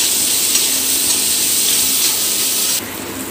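Two chopped onions fry with half a spoon of turmeric in a pan, making a loud, steady close-up sizzle that hisses without a break and drops slightly in level near the end.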